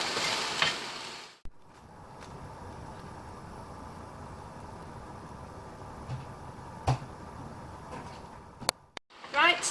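Chicken balti simmers and fries in a pan, a steady soft sizzle running throughout with occasional clinks and stirring scrapes, fairly close.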